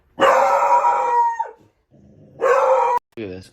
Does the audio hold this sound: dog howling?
yes